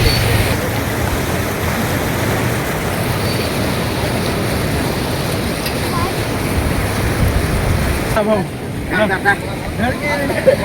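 Floodwater of the swollen Kejdi river near Kej after heavy rain rushes past in a steady, loud broadband roar, with voices faintly present at times and the flow easing slightly near the end.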